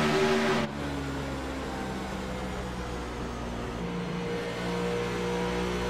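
A race car streaks around the track at full speed despite damage, its steady engine drone and tonal whine holding loud and continuous after a brief louder burst at the start.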